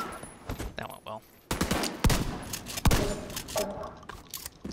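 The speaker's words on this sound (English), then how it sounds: "God damn, the shotgun's good." Shotgun blasts in the Division 2 video game, several sharp loud bursts spaced irregularly amid game noise and other gunfire, with a voice talking in places.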